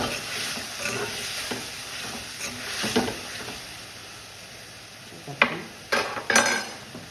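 Vegetables sauté in a pan for a South Indian sambar dish, with a continuous close sizzle under soft stirring scrapes, ending with a few sharper clinks of a spoon against the pan.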